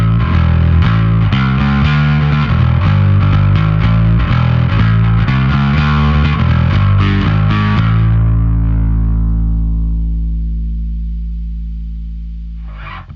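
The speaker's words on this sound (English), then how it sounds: "we're adding in way more saturation for something a bit more gritty." Gritty, saturated bass guitar riff through a Trondheim Audio SkarBassOne pedal, played steadily for about eight seconds, then a final note rings out and slowly fades.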